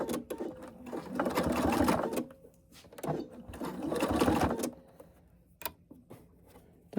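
A sewing machine top stitches fabric in two sustained bursts of fast, even whirring stitches, separated by short pauses with faint handling clicks, heard up close.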